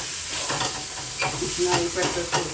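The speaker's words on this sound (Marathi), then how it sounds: "आता छान असं सगळं परतून घेऊ आपण" Vegetables spiced with red chili powder sautéing in a pan make a steady close sizzle and hiss, with soft scraping stirs repeating at a loose rhythm and no talk over them.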